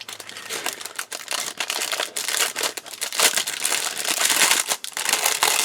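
Resealable plastic bags holding parts of a Takom 1/35 early Tiger command tank model kit crinkle and rustle loudly up close as they are handled, in irregular bursts.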